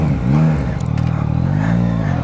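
A Yamaha MT-09 motorcycle revs up close, its engine note rising and falling in two surges with a short crackle in between, loud and alone.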